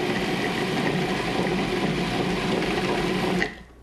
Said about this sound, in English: just going to run it now until really the dough comes together and forms a ball